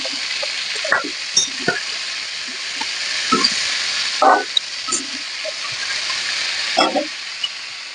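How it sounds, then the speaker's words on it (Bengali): Vegetables for a red amaranth curry fry in a pan with a steady close sizzle, broken by occasional scrapes and clinks of stirring, and no voice. "নিয়ে সবজিগুলো ভালো করে ভেজে নিচ্ছি।"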